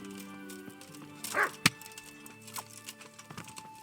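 A dog barking in Kingdom Come: Deliverance, a single sharp bark standing out against a faint background hum and scattered soft ambient noises.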